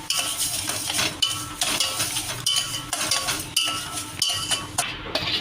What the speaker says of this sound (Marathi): साधारण 1 वाटी होईल तेवढीच आपण साखर घ्यायची। आणि हलवत राहायचं जरा।